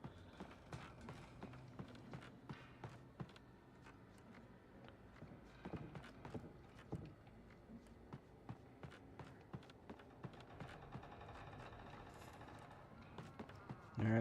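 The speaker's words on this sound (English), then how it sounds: "I'm definitely hearing more footsteps." Footsteps in the video game Alan Wake tap along in a steady run of soft, fairly quick steps against an ambient game soundscape, fairly faint, with a brief louder burst at the end.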